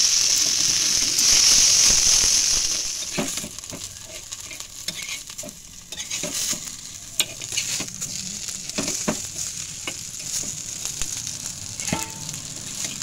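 Oil sizzles steadily in a pan as potato patties fry, with occasional scrapes and stirring clicks, loud at first then settling lower.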